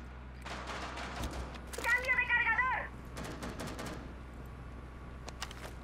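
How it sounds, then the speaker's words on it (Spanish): Teammate gunfire in Rainbow Six Siege, rapid bursts of clattering shots in quick succession amid game ambience, with a brief whining tone in the middle and a voice talking over it. "Está disparando el compañero"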